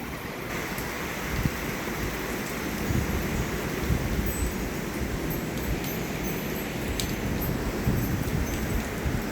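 A heavy thunderstorm with strong winds pours down, the dense hiss of steady rain running throughout with low rumbling thunder underneath and a few sharper knocks nearby.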